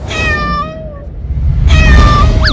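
Two drawn-out cat meows, the first sliding downward and the second rising then dipping, close and fairly loud with a short pause between.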